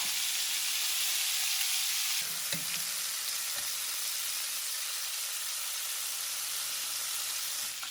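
Scallops pan-searing in a hot pan give off a steady, loud sizzle that runs unbroken, with a few brief clinks and shifts partway through.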